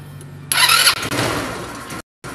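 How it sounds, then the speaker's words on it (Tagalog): A motorcycle engine cranks and catches, then runs at a rough, uneven idle that cuts out abruptly for a moment before resuming; the bike has a digital gauge whose reading resets when the throttle is opened. "Start natin yung motor ko."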